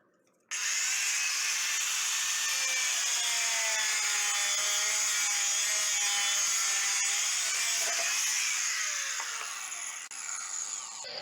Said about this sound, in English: he's going to use now diamond blade to cut it